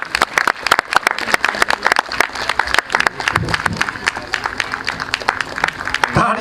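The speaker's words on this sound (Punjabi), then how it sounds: "ਤਾੜੀਆਂ ਮਾਰ ਦਿਆ ਕਰੋ ਕਲੀਸਿਆ ਪਲੀਜ਼" Dense, loud applause from a large group, steady clapping throughout with a few voices mixed in.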